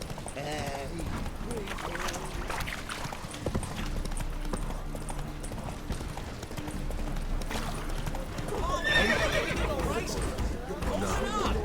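Hoofbeats of the horse Roach galloping in The Witcher 3 video game, a steady clip-clop running throughout amid game ambience, with a brief whinny-like burst near the end.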